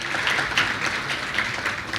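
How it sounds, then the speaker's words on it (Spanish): A congress audience applauds in a dense, steady wash of many hands clapping, fairly loud and close, lasting throughout with no break. "Un aplauso porque sí es"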